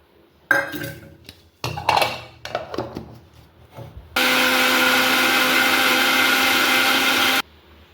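Utensils clink and a jar lid rattles as gravy ingredients for a green pigeon pea curry go into a mixer grinder jar. The mixer then runs for about three seconds with a loud, steady, close motor whir before it cuts off.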